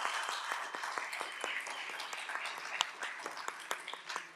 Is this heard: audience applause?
yes